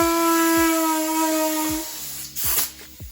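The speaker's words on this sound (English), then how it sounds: "Put your air hose thing nozzle on it." A compressed air hose nozzle blows a grip off the handlebar of a 2016 Honda CRF230F dirt bike, making a loud steady hiss that then breaks into a few short, sputtering bursts.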